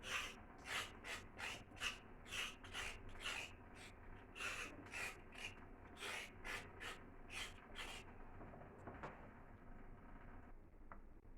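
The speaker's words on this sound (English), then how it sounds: "I'm going to scrape it a little just to remove the black" A knife scrapes a raw carrot in a kitchen to clear black spots, giving a quick run of rhythmic rasping strokes up close, then a quieter pause with faint handling.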